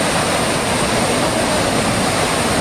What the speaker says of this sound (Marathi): तुम्हाला दिसतोय हा संवत्सडा हा धबधबा आहे